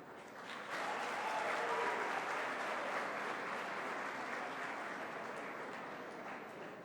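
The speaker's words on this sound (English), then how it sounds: "May I hear a huge round of applause for our Honorable Prime Minister." A large crowd applauding the Prime Minister steadily for several seconds, a broad sustained wash of clapping heard from a distance, fairly faint.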